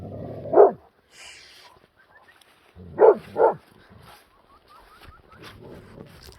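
A big dog lets out one loud bark, then a close pair of barks a few seconds later, with quieter shuffling and faint whimpering in between, heard outdoors among a pack of herding dogs.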